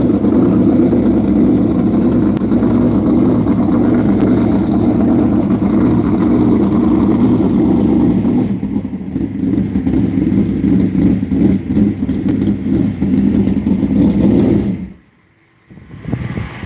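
Sprint car engines, including a 360, rumble steadily while warming up at a dirt track, a loud continuous drone with revving that drops out abruptly near the end.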